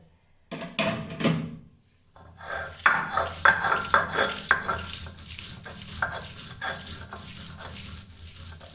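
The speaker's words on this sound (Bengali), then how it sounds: "এখন আমি এগুলো শিলপাটাতে বেটে নিব।" Coriander leaf vorta ingredients ground on a stone shil-pata, a rhythmic scraping and rubbing of stone on stone repeating steadily after a short pause, close and moderately loud with no talk.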